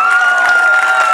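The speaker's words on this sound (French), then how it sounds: "On peut encore l'applaudir, Jérômine." Applause and cheering from a television studio audience at a French singing contest, a steady dense wash of clapping and crowd noise throughout the short moment.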